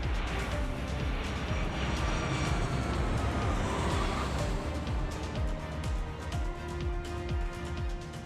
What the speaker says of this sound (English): That might even be the aircraft there.